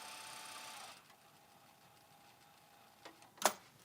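A home sewing machine stitches a fabric scarf with a steady rapid whir that stops after about a second, leaving quiet room tone and a couple of small clicks and knocks near the end.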